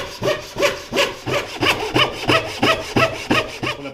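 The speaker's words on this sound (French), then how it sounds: "Et je scie." A hand saw cuts wood along a guide with steady, close back-and-forth strokes, about nine rasping passes in a regular rhythm with no voices.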